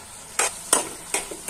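Food frying in a pan at home, stirred as it cooks: three short, bright scraping sizzle bursts spaced about a third of a second apart over a low steady background, with no talking.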